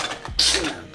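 A single short sneeze, close and sudden, a quick sharp burst lasting under a second.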